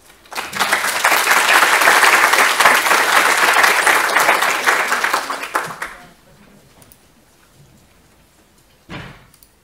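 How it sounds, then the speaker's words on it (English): An audience at a neuroscience symposium claps to welcome a speaker, a loud burst of dense applause lasting several seconds before fading into quiet, with a brief noise shortly after. "So please give her a big applause."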